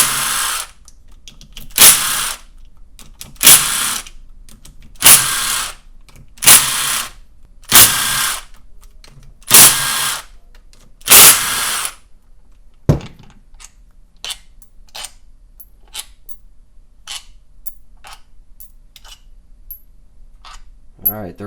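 Bolts come off the left-side engine cover of a Yamaha YZ250F/WR250F four-stroke motor with a power tool: about eight short, evenly paced loud whirring bursts, followed by quiet small metallic clicks and clinks of parts being set down.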